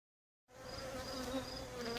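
Honey bees on the combs of a new colony in a top bar hive give a dense, steady buzzing drone. It starts abruptly after a short silence and holds close and continuous.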